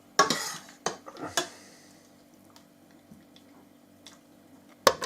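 Wood sorrel soup scooped from a pot: a few clinking metal ladle-and-pot knocks near the start, a couple more scrapes around the middle, then quiet with one sharp clank near the end.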